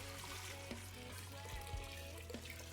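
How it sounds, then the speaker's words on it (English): Water pours into a pot, a steady trickling and splashing stream heard faintly with some background clatter. "we covered those with about an inch or so of water"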